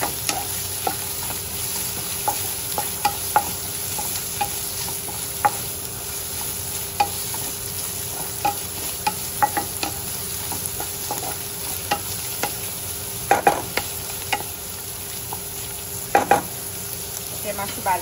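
Onions fry in oil in a pan with a steady sizzle, while a spoon scrapes and clinks against the pan in scattered stirring strokes, close and without talk.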